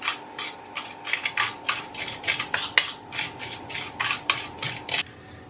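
A spoon rhythmically scrapes and stirs turmeric, salt and amchur powder in a bowl, about a dozen quick, even, gritty strokes close by, stopping near the end, no talking.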